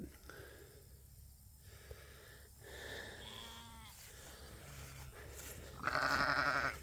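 Sheep being driven across a farm field on a warm, humid, cloudy day, with several short bleats scattered through and a louder, sustained bleat at the end, against a low ambient background.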